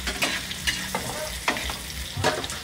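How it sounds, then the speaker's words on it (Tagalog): Pork asado sautéing in a pan, a close crackling sizzle broken by repeated scraping stirs of a utensil against the pan in an uneven rhythm. "Yung asado ko, ikikisa ko na."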